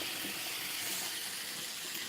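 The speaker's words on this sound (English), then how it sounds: "They're boiling away." Potatoes boiling away in a pot on a stove for a vegan chorizo and potatoes dish, giving a steady, close bubbling hiss with no clear breaks throughout.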